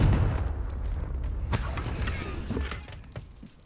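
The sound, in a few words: Confringo fire spell cast, video game Hogwarts Legacy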